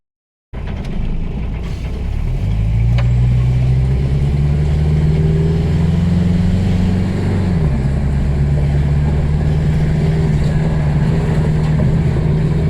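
A Toyota-based all-terrain vehicle starts moving over rough ground, its engine droning loud and close with a steady low hum that rises in pitch, then drops and settles, with faint mechanical rattles and no voices.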